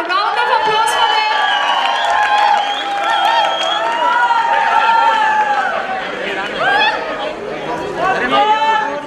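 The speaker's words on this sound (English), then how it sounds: "Can I have a round of applause for them?" A college fest crowd applauds, cheers and whoops for fashion show winners, loud and close with a dense wash of clapping and excited chatter throughout.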